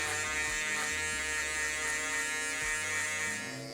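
Electric hair clippers buzz steadily while cutting hair for a fade, a close, continuous motorized hum with slight pitch shifts as the blades move through the hair; no talking.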